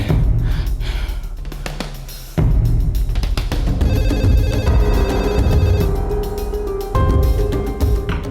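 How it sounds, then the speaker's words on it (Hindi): A telephone rings repeatedly in loud, regular bursts, with a sharp gasp and breathy sounds between the rings. "फोन उठाओ जल्दी।"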